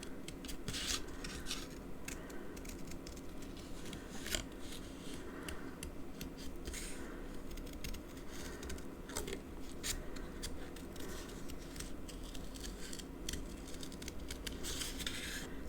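Scissors cutting around a shape in card for a racing-themed card design, giving a steady run of soft snips and scratchy rasping that continues throughout at close range with no talk.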